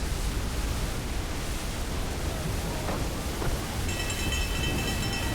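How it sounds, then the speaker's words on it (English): Thunderstorm at sea in Assassin's Creed 3: dense, steady hiss of heavy rain with a faint low rumble of thunder underneath, continuous and fairly loud with no voices. "There's a storm brewing."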